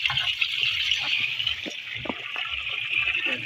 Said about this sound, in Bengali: এই যে জল বার হয়ে গেল বন্ধুরা